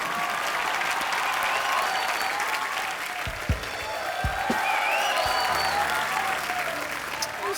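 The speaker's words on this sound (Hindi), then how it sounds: "एक बार रणबीर अनुष्का के लिए जोरदार तालियां।" Studio audience on a Hindi comedy talk show breaks into sustained loud applause for Ranbir and Anushka, steady clapping filling the room with a few sharper claps standing out.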